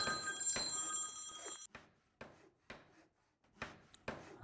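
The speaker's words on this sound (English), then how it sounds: "Sorry for that phone ringing." A telephone bell rings loudly and continuously at first, then cuts off, leaving a few scattered soft knocks and clicks in near silence.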